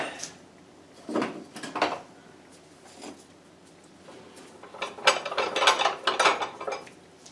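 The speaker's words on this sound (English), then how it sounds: "I loosen up my 2 clamps here so I can get it out." Clamps being loosened on a woodworking glue-up press holding a segmented disc, giving a few scattered metallic clicks and ratcheting rattles in bursts, louder and busier toward the end, with no talk.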